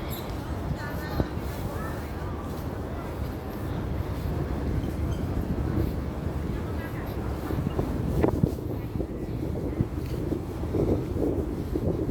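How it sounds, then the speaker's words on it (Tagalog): Steady broadband wind rumble buffets the microphone outdoors on a jogging track, constant and fairly loud throughout, with a voice speaking intermittently over it. "Medyo mahangin ngayon guys."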